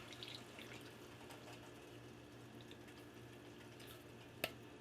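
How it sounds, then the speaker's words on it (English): Tap water runs steadily into an empty diced-tomato can as it fills in a kitchen, a soft, even flow ending in a small clink near the end. "So fill this guy up with water"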